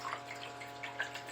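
Water runs steadily through a gold prospecting sluice, washing material over the riffles while black sand and gold flakes stay behind. The flow is a soft, even wash with faint trickles and splashes, close by and alone.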